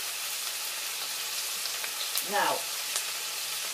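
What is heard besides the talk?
homemade curry frying in a pan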